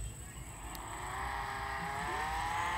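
A video game car engine revs high and steady while drifting, a continuous loud whine rising slightly in pitch over a rumbling base, with no talk.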